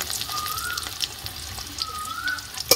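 Chopped onion and garlic fry lightly in a pan for a green jackfruit dish, making a steady soft sizzle with small crackles throughout.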